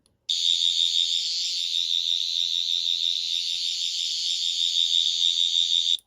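A shrill, steady electronic whine from a toy 10th Doctor sonic screwdriver sounds for about six seconds at a constant high pitch, then cuts off abruptly, close and loud.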